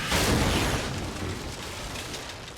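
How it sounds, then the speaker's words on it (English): Cannon broadside from an enemy ship in the Pillars of Eternity II: Deadfire naval combat, a deep rumbling boom that swells early and rolls on as a long, dull, distant thunder over the sea. "The distant thunder of cannon fire echoes across the sea."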